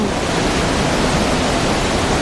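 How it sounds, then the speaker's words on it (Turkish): The last waterfall in Sapadere Canyon pours in a dense, steady roar of rushing water, loud and close, unbroken and without voices. "Bu şelale çok güzel."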